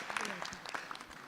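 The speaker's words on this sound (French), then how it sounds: "On applaudit d'abord." Audience applause at a general assembly of the African Man and Biosphere Reserves network, a short burst of scattered clapping with some voices in the room.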